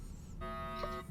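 An alarm going off as a role-playing game sound effect in a sci-fi setting aboard a ship, a brief buzzing electronic tone swelling in after a low rumble, moderately faint.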